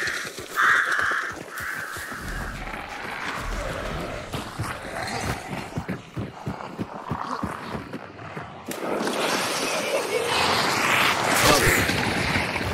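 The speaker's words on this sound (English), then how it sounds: "Gonna have to scare a few birds along the way." Crows caw and flap away as a player character runs through them in a video game, with harsh repeated calls over busy footsteps, music and game noise, growing louder and denser near the end.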